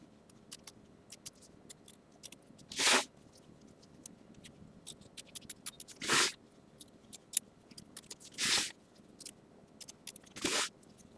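Scissors snipping fabric while trimming appliqué on a quilt block, with four distinct crisp cuts spaced a few seconds apart over a quiet background of faint handling noise.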